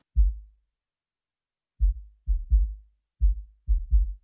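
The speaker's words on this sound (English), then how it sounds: "And then this is the sub kick out of the box." An isolated sub kick drum track from an alternative rock mix: deep, boomy low thumps, about eight hits in an uneven pattern with silence between them.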